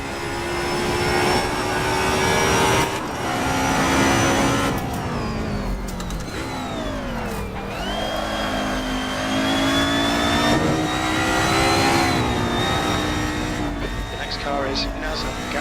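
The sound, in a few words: race car engines revving in a racing video game, BMW passing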